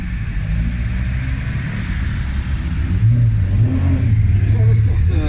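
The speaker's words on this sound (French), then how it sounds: "Le numéro 237 ici à l'arrivée, c'est une Fiat 124 Sport coupé." A Fiat 124 Sport coupé arriving at the Tour Auto rally in Limoges gives a steady, fairly loud engine rumble, and the engine note rises slightly toward the end.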